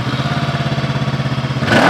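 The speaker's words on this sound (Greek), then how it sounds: "όταν πάρει μπροστά και αρχίσουμε να μαρσάρουμε." Voge 500R motorcycle engine idling with a rapid, even pulsing beat, close and loud, rising into a sharper rev at the very end.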